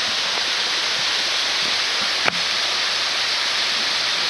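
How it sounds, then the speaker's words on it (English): A waterfall near a lake in Craig Park, Brazil, Indiana, gives a steady, loud rushing hiss that stays constant throughout, with one brief sharp click partway through. "You can see the waterfall through those trees."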